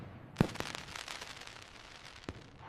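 Fireworks burst with a sharp, loud bang followed by a dense spread of crackling, then another distinct pop near the end, all without any voices.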